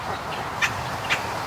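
Ducks near a swamp give two short quacks about half a second apart, moderately distant, over steady outdoor background noise.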